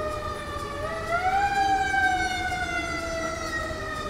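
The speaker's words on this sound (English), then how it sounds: "fire engine." A passing fire engine siren wails loudly and continuously, its pitch sliding upward then holding steady over a low rumble of traffic, with no talking.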